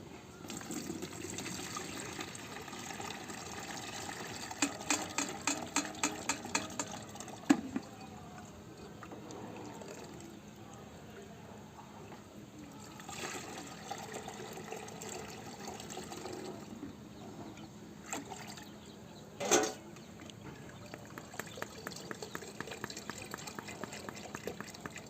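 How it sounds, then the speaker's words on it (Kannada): Liquid fertilizer made from rice-wash water and waste fruit is poured through a filter, with faint trickling, a few clinks and handling clicks, and a low steady background hum. "ಇದನ್ನು ಈಗ ನಾವು ಫಿಲ್ಟ್ರ್ ಮಾಡ್ತೀವಿ"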